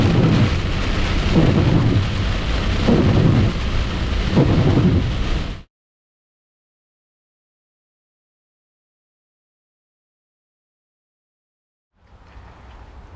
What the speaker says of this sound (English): stormy night tonight in Cedar Key